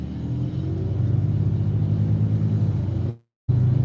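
A diesel engine idles in a steady, loud, close rumble with a throbbing low drone, briefly cut off for a moment before resuming, with no talking.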